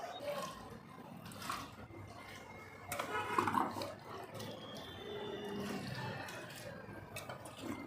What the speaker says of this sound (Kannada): 12 kg ಅಕ್ಕಿಗೆ 12 ಲೀಟ್ರ್ ನೀರು ಹಾಕ್ತಾಯಿದ್ದೀನಿ